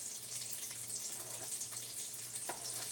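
Tap water runs and splashes over mini king oyster mushrooms being rinsed, a soft, steady rush with a low hum beneath and a few faint knocks.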